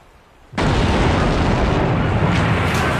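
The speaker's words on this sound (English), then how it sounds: "the battleship USS Maine exploded in Havana Harbor" The battleship USS Maine exploding in Havana Harbor in 1898, a sudden massive blast that erupts out of near silence into a loud, sustained roaring rumble that continues without letup, with no voices.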